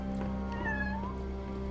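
A cat in the video game Uncharted: Drake's Fortune gives a single drawn-out meow over a steady low background hum, fairly faint and alone.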